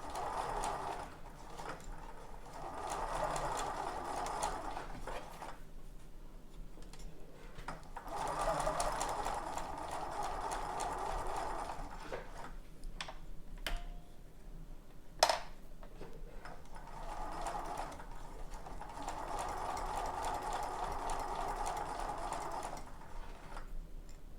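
Sewing machine stitching fabric ruffles in several bursts of rapid, steady mechanical whirring, separated by short pauses with a few clicks, close and moderately loud.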